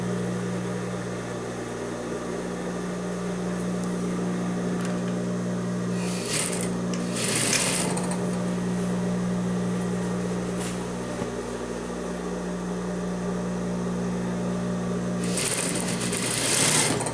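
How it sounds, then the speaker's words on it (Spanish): A sewing machine runs steadily, stitching around the waistband of a woman's basic trousers with a 1 cm seam allowance, a continuous close mechanical whir with brief pauses and a few louder clicks between runs. "vamos a coser todo el contorno con nuestra pestaña de costura, que es de 1 centímetro"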